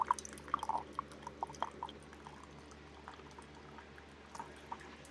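A coffee pot brews inside a camper, with soft gurgling and bubbling pops and small clicks that fade over a low, steady background hum.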